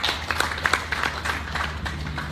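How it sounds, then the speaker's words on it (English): A round of applause for Rogers staff at the final round of the 2017 Rogers Grand National Open goose shoot, heard as brief scattered claps over a low steady hum, moderately distant and fairly faint. "big round of applause for Rogers, all their staff, everybody that made this possible"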